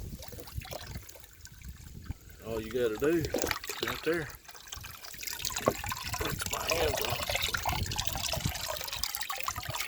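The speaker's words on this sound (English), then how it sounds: "when the trough gets low, all I got to do is turn that ball valve on right there." Water runs from a ball valve through a scrap piece of garden hose into a livestock trough for calves, a steady trickling splash under someone talking close by.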